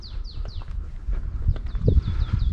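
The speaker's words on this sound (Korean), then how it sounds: "지금 새소리도 들리고요." Small birds chirp outdoors at a hillside country house, with a repeated series of quick, high, descending notes, moderately close, over low rustling and footstep-like thumps.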